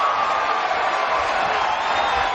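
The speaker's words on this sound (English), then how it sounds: "Well, that's certainly woken the crowd up." A boxing arena crowd roars in a sustained, dense wall of cheering after a left hook lands in a Cotto versus Kamegai bout, loud and unbroken throughout.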